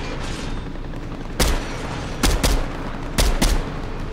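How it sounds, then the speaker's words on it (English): Gunfire in Fortnite: three clusters of sharp, loud shots ring out, a single crack followed by two quick double bursts, over a steady background hiss. "Some people shooting over here."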